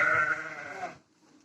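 Sheep and newborn lambs in a warm village barn give one close, wavering bleat that lasts about a second and then fades to near silence.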